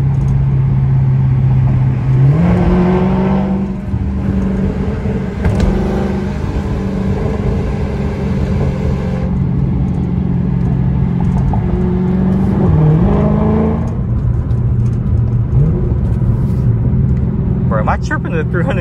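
A Dodge SRT 392 in track mode rumbles and revs during a drive, the engine note rising and falling through several pulls, loud and close, with people talking over it.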